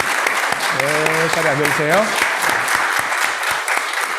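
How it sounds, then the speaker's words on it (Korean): Korean church Sunday service congregation clapping to welcome newcomers, continuous applause with sharp individual claps standing out, while someone speaks briefly over it. "그러면 우리 다 박수로 한번 환영하겠습니다"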